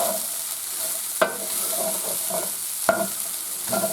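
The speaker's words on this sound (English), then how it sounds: "I'm going to stir this." Chicken fried rice sizzles steadily in a pan while being stirred, with two sharp scrapes or clacks of the utensil against the pan over the constant frying hiss.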